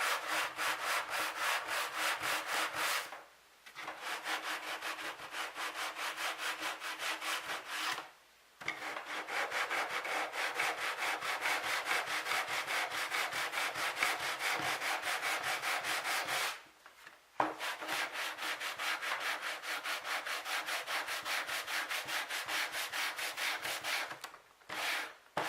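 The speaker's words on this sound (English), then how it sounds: "I said light hand sanding, I meant light hand sanding." Steady, continuous rasping of sandpaper rubbed back and forth over a wooden key hanger by hand, close up, with a few brief pauses between long strokes.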